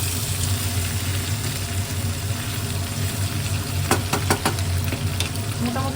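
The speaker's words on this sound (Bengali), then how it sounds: "এবার একটু হালকা করে সয়াবিনটা ভেজে নেবো, তারপর অন্য মশলা।" Soybean chunks frying lightly in a pan, a steady close sizzle running throughout with a few sharp stirring scrapes near the end.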